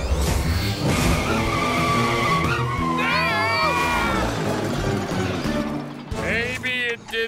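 Cartoon turbo tire skidding and screeching in a space setting, loud continuous squealing sweeps under a busy music score, with voices briefly heard.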